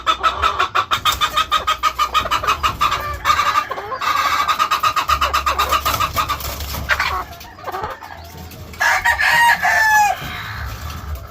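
A broodcock of Ilgama bloodline crows loudly and close by over steady clucking from breeding hens, with a rhythmic run of clucks at first and further crowing toward the end.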